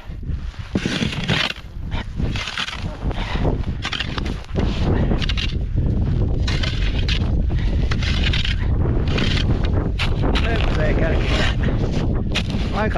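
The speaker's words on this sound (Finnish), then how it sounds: "Aika vihakka on tuo tuuli." Strong wind gusts across an open frozen lake in snowy winter, a loud continuous rushing roar buffeting the microphone close up throughout, with a few brief sounds mixed in.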